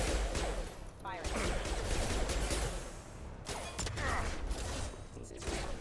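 Gunfire in the video game Mass Effect 2, steady bursts of shots mixed with whooshes and dense game effects throughout, with a voice speaking briefly over the action.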